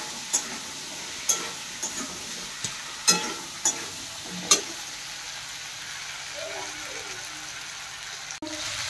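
Potato pieces fry in a pan of oil for a village-style fish curry, a steady low sizzle broken by sharp clicks and taps of a spatula stirring against the pan, close and moderately quiet.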